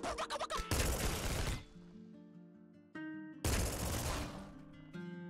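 Shotgun blasts in the video game Nuclear Throne arrive as two dense bursts of rapid, crunchy gunfire. Electronic game music and tonal effects play between them.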